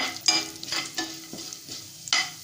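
Chana dal frying in hot oil with popped mustard seeds and curry leaves, being stirred: a steady crackling sizzle broken by several scraping stirs, close and fairly loud, with no voices.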